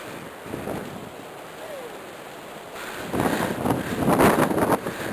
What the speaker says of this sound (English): you hear the waves breaking